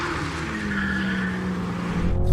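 Toyota Supras launching off the line in a drag race, the 90-series 2-litre against the 80-series twin-turbo: loud engines revving with rising harmonic whine and tire squeal, building over a couple of seconds, no talking.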